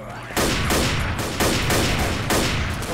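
Rapid pistol fire from dual pistols in Left 4 Dead, a run of sharp, loud shots in quick uneven rhythm, roughly a dozen bursts across a few seconds with no talking.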